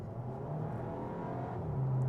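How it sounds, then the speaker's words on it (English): A Škoda Octavia RS engine revs up under hard acceleration, a steady droning growl rising in pitch toward the end, heard from inside the car. "when you bury your foot in the accelerator,"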